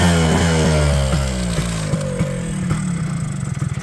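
A 1985 Yamaha Tri-Moto 125 three-wheeler idles up close, its small engine holding a steady, loud putter with an even pulsing rhythm and a slight wavering.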